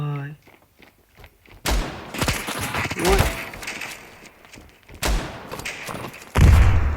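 A bomb goes off in the mobile shooter Standoff 2, with loud booming bursts and thuds near 1.7, 5 and 6.4 seconds among game noise, while a voice briefly talks at the start.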